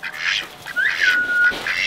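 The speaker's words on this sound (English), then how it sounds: "they're the only two ducklings I ordered off the internet" Two ducklings quack close by in a short run of high, bright calls, four or five in quick succession.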